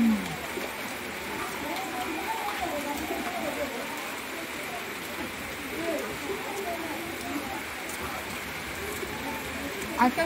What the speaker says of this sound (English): It's raining heavily, so don't mind the rain.